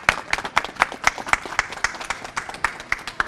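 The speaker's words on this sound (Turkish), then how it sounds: "Bir alkışlayalım hep birlikte." Audience clapping at the opening of a hair salon in Frankfurt, a steady round of applause with dense, rhythmic hand claps close by, no voices heard.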